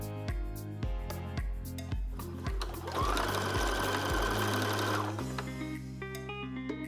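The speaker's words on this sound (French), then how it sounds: "je n'ai plus qu'à coudre le bas de mon bustier" A sewing machine stitches the hem of a fabric bustier, a close, steady mechanical whir with quick needle clatter that runs in short starts and stops before one longer continuous run, with no talking over it.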